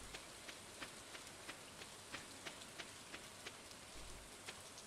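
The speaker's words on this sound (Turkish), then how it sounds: "Yağmur yağıyor." Rain falls steadily in the Stardew Valley farming game, a soft, constant hiss with faint scattered droplet ticks, quiet and even throughout, with no voices.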